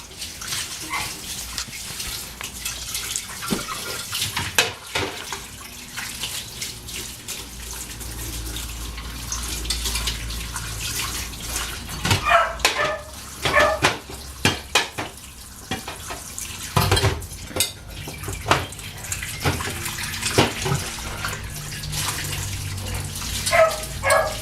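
Dishes being washed at a kitchen sink under running water, a steady tap flow with irregular clatter and knocks of plates and utensils, moderately close, continuing throughout with no talk.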